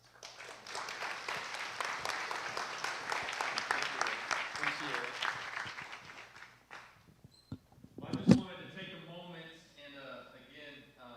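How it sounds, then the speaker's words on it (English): A church congregation claps in a warm round of applause for about six seconds, dense and steady, before it fades out and a voice begins speaking. "give him a warm round of applause"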